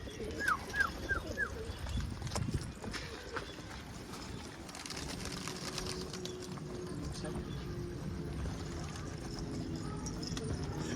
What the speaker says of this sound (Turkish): Gökyüzü kuşla doldu ya.